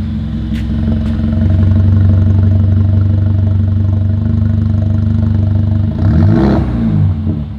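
A Mercedes A200 fitted with a new exhaust idles in neutral with a steady, close, deep rumble, then blips briefly upward in revs near the end.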